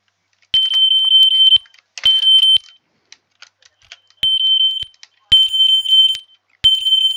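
A loud fire alarm in the Roblox video game sounds a steady 3000 Hz electronic tone in five separate bursts of about one second each, with short silent gaps between them and no talking.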